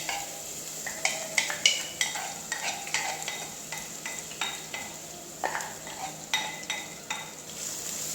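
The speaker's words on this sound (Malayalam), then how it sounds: "നന്നായിട്ട് ഇളക്കി കൊടുക്കാം." Crushed ginger and garlic frying in a pan for a kappa and chicken dish, with a low sizzle under rhythmic spatula scrapes and clinks repeating roughly every half second, close up, no talking.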